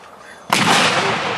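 A mortar round fired outdoors, one sudden loud launch blast that booms out and rolls on with a sustained roar, after a brief stretch of quiet background.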